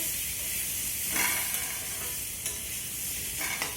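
Papaya and potato curry being stirred in a pan, a steady frying hiss with a few soft scraping strokes as the pieces are turned, close and alone.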